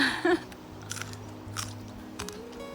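A fresh long bean pod, picked from a greenhouse in England, is bitten with a sharp crunch and then chewed in a few crisp, irregular crackles, close and fairly loud.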